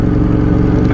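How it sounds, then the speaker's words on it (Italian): A motorcycle engine runs steadily at a low, throbbing idle while warming up outdoors on a damp day, loud and close for about a second. "facciamo scaldare un pochino la moto"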